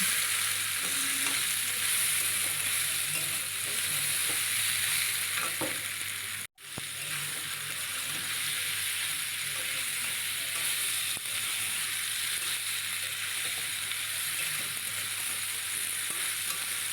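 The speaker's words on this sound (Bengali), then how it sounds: "সোয়াবিনটা দিয়ে দিলাম দিয়ে আর একটু কষিয়ে নেবো" Soybean chunks are stir-fried in a pan with a continuous loud sizzle and the rustle of stirring. The sound cuts out for an instant partway through, then the close, steady frying resumes with no speech.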